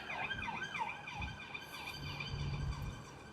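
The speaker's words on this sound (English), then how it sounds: "I can see police cars and 3 fire engines went that way" Wailing sirens from police cars and fire engines sweep up and down in repeated cycles, several overlapping at moderate distance over low city traffic rumble near Canary Wharf.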